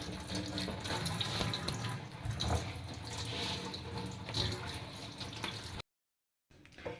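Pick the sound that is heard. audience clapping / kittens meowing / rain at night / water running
water running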